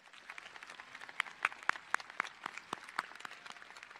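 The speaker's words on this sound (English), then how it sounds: "Let's give them all a big round of applause." A high school graduation audience claps softly and sparsely, with distinct individual claps heard at a distance.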